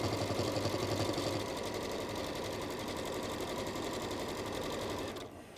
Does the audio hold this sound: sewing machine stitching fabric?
yes